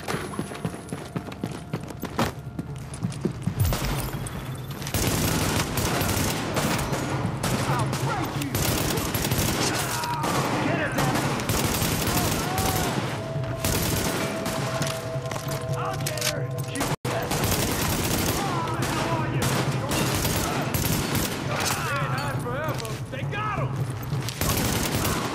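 Sustained heavy gunfire rains down from a rooftop on an escort party during a firefight in The Division, dense bursts and shots layered continuously with game noise, a voice speaking over part of it.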